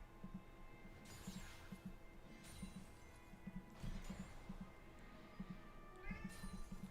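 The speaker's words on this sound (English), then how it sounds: "my cat is behind the door and she's meowing, as you can hear" A house cat meows repeatedly from behind a closed door, several faint, muffled cries spaced over a few seconds, with no one speaking.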